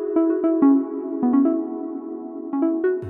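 A synth patch from the FL Studio Flex plugin plays a run of short, bright, harmonically rich notes with sharp attacks. It sounds alone and steady, and a low note enters at the very end.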